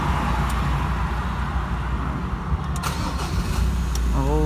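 A 2015 Ford Ranger pickup engine cranks and catches, settling into a low, steady rumble with a few brief mechanical knocks near the end.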